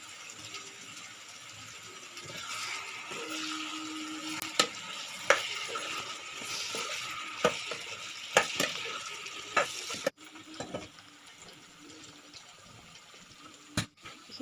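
Duck curry seasoned with salt and turmeric being stirred in a pot, a steady frying sizzle broken by repeated spoon scrapes and knocks against the vessel, with a brief drop in level near the end.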